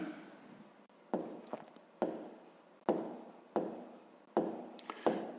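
A pen writes on paper while working a fifth-grade maths exercise, five or six short scratchy strokes in a steady rhythm, close and faint, with no talking.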